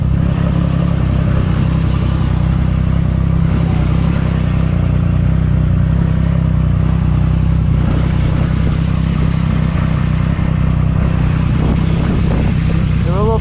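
Motorcycle engine running loud and steady throughout at close range, a strong low idle rumble with slight rises as the throttle is twisted, voices briefly heard over it.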